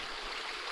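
Creek water rushing over slimy, algae-covered rocks on a hiking loop, a dense steady hiss of flowing water heard close up for a brief moment with no voices.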